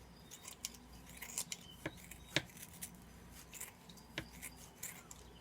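Scissors cut up dry Usnea lichen, soft scattered snips and rustles close by and fairly quiet, irregular in rhythm.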